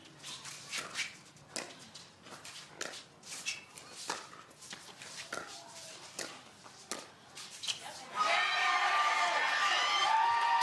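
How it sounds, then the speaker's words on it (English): Rowdy crowd at a championship pickleball doubles match, with scattered claps, shouts and bursts of noise in the distance, then a louder sustained cheer near the end. "Sounds like the crowd is still rather rowdy for Kovalova and Smith."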